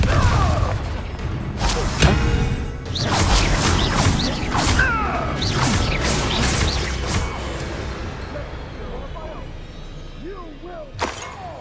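Fire-blast spells cast in Hogwarts Legacy, a wizarding video game: a run of bright bursts, whooshes and crashing impacts packed together at close range over dense game music and effects, with a sharp final hit near the end.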